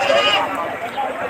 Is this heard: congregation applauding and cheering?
no